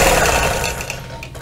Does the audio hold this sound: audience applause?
no